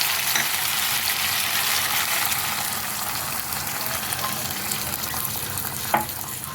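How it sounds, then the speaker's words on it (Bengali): Chicken and potatoes in spiced oil sizzle in a pan as water is added for a Bengali white chicken curry: a steady, loud frying hiss with small stir clinks and one sharp tap near the end, no voices. "এখন আমি এর মধ্যে জল দিয়ে দেবো।"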